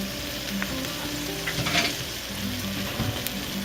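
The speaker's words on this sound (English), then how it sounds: "our onions are gonna start to caramelize" Onions caramelize in a pan over moderate heat, sizzling in a soft, steady way, with faint stirring scrapes and small crackles close by.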